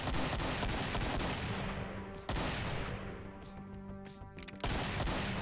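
Chaingunner enemy in Doom: Project Brutality firing a sustained, loud burst of rapid automatic gunfire, dense and continuous for several seconds with sharp restarts partway through, no talking.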